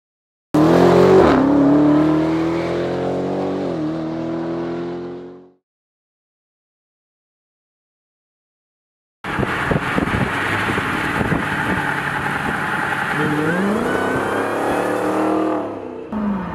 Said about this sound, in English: it's actually a Dodge Challenger Hellcat wide body. It's got the usual Hellcat 707 horsepower engine.